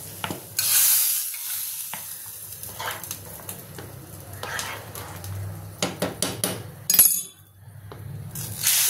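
Hot tempering poured into dal fry in a pot, a loud hissing sizzle at the start and another near seven seconds, between bouts of metal spoon clanks and scraping as it is stirred close by.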